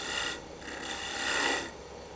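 A carving tool cutting and rubbing across a wooden spatula, a quiet close rasping scrape in two or three slow strokes.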